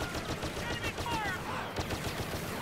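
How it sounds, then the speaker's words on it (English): Rapid blaster gunfire from the Star Wars Battlefront video game crackles in quick bursts, layered over a dense, constant battle din. "Enemy fire!"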